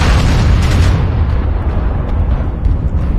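A missile explodes in a mech warfare video game, a loud, deep booming blast whose low rumble rolls on and decays over several seconds with no talk.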